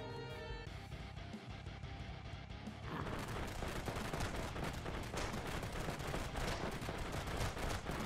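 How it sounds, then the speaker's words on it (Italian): Machine gun turret firing in the tower defense game Defender Bros: after a musical opening, a rapid, unbroken stream of shots kicks in and continues densely to the end. "Inizieremo a far danno da qui anche noi, con la nostra mitragliatrice."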